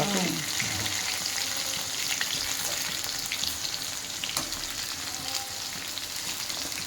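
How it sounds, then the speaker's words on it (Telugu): Okra frying in a pan, a dense, even hiss of hot oil running throughout at close range, with faint clinks and a low background murmur. "బెండకాయ ఇది జిగురు పోయేదాకా కొంచెం ఫ్రై చేసుకుందాము"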